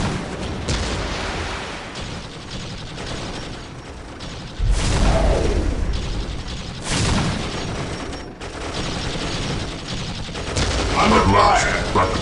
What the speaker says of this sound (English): Whirlwind artillery tank here.